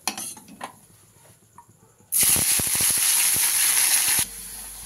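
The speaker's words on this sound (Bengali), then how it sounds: "উচ্ছেটা ভেজে নেব, উচ্ছেটা ভেজে তুলে রাখবো" Bitter gourd slices dropped into hot white oil start a loud, steady hiss and sizzle, with a few utensil clinks in the quiet before.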